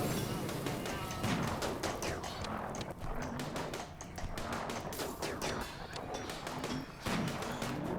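Rapid bursts of gunfire against the Diabolus in the colony game Rimworld, a dense, fairly quiet stream of repeated shots and thuds rattling on continuously with a narrating voice over it.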